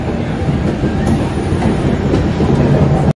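Passenger train on the Kolkata (Sealdah) to NJP route running at speed, a steady loud rumble of wheels and carriage noise with faint clickety-clack, continuous for about three seconds and then cut off abruptly.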